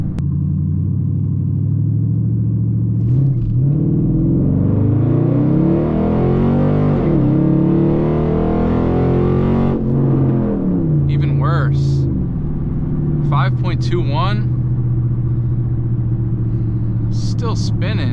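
A Dodge SRT8 launches hard with its tires spinning, the engine roaring loudly and rising in pitch before dropping back to a steady drone, with voices talking over it.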